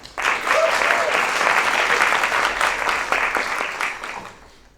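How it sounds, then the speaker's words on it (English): A crowd claps steadily for several seconds, a dense wash of applause that fades toward the end. "Please give them a round of applause."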